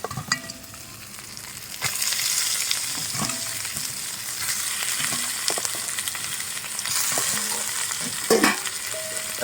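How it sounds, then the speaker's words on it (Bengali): Chicken pieces frying with vegetables in a hot pan give a continuous broad sizzle, with occasional spatula scrapes and knocks against the pan, close and steady throughout. "এখন কিন্তু আমি এই মাংসগুলো দিয়ে দেবো।"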